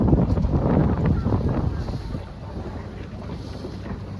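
Strong wind gusts across the microphone during a C420 sailboat regatta, a loud continuous rushing roar that eases off slightly partway through, with water noise beneath.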